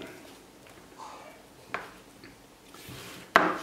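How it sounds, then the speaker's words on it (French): A small Tamiya XF65 paint pot being opened at a hobby workbench, with soft fiddling noises followed by a few sharp clicks and snaps of the lid, close and quiet. "j'ai pris un pot de peinture XF65 de chez Tamiya. Donc, on l'ouvre."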